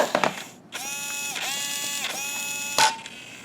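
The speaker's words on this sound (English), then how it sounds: "a Traxxas 2-wheel drive slash, and the servo has gone bad" A faulty servo with plastic gears in a Traxxas two-wheel-drive Slash grinds and ratchets as the wheel is turned, giving several close, harsh mechanical whirring bursts with no talk.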